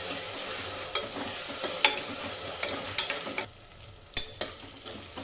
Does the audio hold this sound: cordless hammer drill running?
no